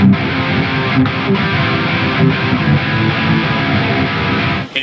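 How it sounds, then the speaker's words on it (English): Electric guitar pushed through a Friedman Brown Eye overdrive pedal, playing a dense, saturated, heavy distorted riff with steady chugging rhythm and a few brief breaks, loud and up front with no talking. "but here's what it sounds like with the Friedman."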